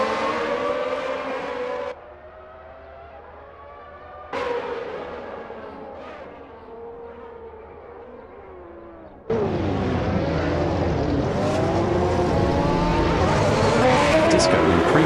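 Formula 1 race cars at a 1991-season race start in a racing game, engines droning and then surging sharply into a loud, dense roar of many cars launching together.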